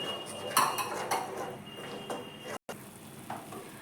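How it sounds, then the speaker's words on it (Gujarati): Flour roasting in ghee in a pan over a low flame for Gujarati sukhadi, stirred with a metal spoon that scrapes and clinks against the pan at an irregular pace, close and fairly quiet. "લોટને આપણે આ રીતે સતત ફેરવતા રહેવાનો છે ધીમી ફ્લેમ પર જ શેકવાનો છે"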